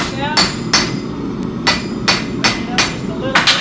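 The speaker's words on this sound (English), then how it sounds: "Gets one swift blow with the hammer." Sharp metallic hammer strikes on a hand-forged clout bolt held in a setting device, about eight ringing blows at an irregular pace, close and loud over a low background rumble.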